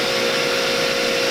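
A table saw runs at speed with a loud, steady whine and broadband roar, no voices, sustained for the whole short stretch.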